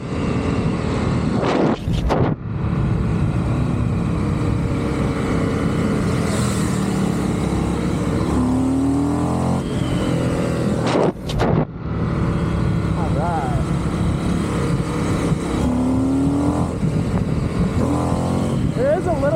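A 2024 Indian Carbon FTR 1200 motorcycle accelerates hard, its engine roar rising and falling through gear changes, with brief drops in between, heard loud and steady under wind noise with bits of rider talk.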